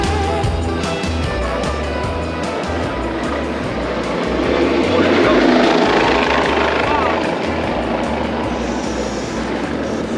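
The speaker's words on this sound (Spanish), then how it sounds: "está aterrizando el helicóptero ahí en medio de la autopista, de la Ruta 40" A helicopter comes in to land in the middle of Route 40, a highway in the USA, at the scene of an accident; its steady rotor chop drones loudly and continuously throughout, swelling slightly midway, with wind and traffic rumble underneath.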